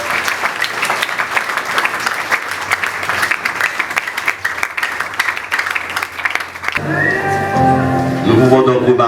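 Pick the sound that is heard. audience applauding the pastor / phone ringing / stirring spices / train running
audience applauding the pastor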